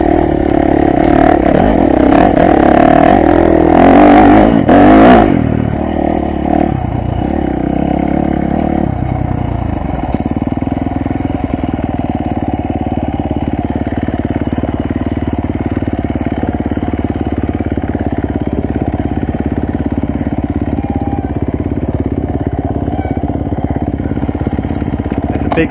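Trail motorcycle ridden along a rocky mountain ridge at Chilbongsan, Gangneung, its engine loud and close at first with clattering over stones, then settling to a steady running drone; a rider speaks over it.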